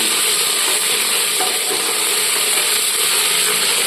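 Potatoes frying in hot oil for a chana dal dish give a loud, dense, continuous sizzle with faint rattling stirs, close up and without speech.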